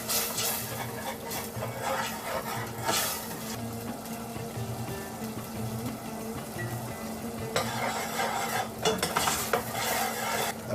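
Tomato puree and paste are stirred into masala frying in a pan for mutton paya, with a steady sizzle and repeated rhythmic scraping of a spoon against the pot, close and without voices.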